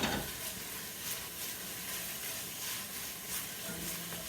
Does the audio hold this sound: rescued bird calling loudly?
no